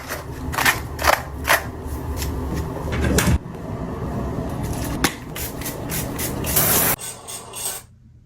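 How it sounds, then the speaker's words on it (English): Body mist sprays onto a hairbrush in several short, close hissing bursts. Rubbing and brushing noises and a few sharp clicks follow, and no one speaks. "So now we're spraying body mist on our hairbrushes and then we're gonna rinse it off?"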